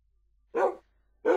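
A dog in the video game Minecraft gives two short, sharp barks, close and clear, separated by a brief silence.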